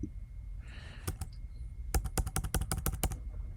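Rapid bursts of typing on a computer keyboard while entering Java code, a few isolated key clicks followed by a quick dense run of keystrokes, close and clear with no talking.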